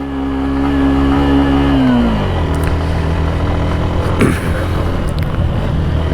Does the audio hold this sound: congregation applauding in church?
no